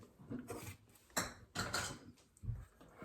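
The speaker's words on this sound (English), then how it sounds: "I'm going to put it in my sink so I can wash it" A peanut butter spoon is set down into a kitchen sink, giving a few clinking metal-on-dish knocks spread across a few seconds, fairly close and with no talking.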